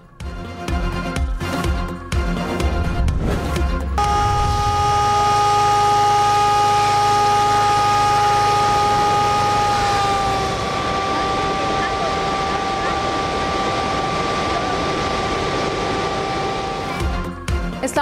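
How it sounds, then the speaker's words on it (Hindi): Warning sirens sound near Rawal Dam in Islamabad as the spillways open during flooding. Several seconds of clattering noise give way to a loud, sustained, steady siren tone that holds for over ten seconds before cutting off. "अतराफ की आबादी को सायरन बजाकर अलर्ट किया गया।"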